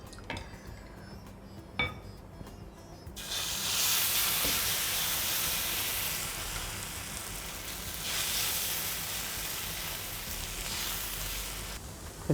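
Dosa batter hits a smoking-hot griddle stone after a couple of sharp metallic clinks, breaking into a loud, steady, close sizzle that keeps hissing evenly for several seconds.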